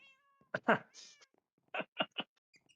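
A cat in the Minecraft modpack Enigmatica 6 meows several times, one drawn-out call followed by a quick run of three short, sharp meows, close and clear with brief gaps of quiet between them.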